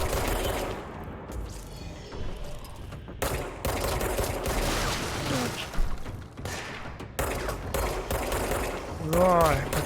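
Gunfire in the video game Control: dense bursts of shots and thuds fill most of the clip, loud and close, with a voice speaking briefly near the end.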